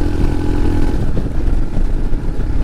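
A Royal Enfield Meteor 350 motorcycle engine pulls hard in low gear on a country road, a steady loud mid-pitched drone with wind rush, heard close throughout with no talk.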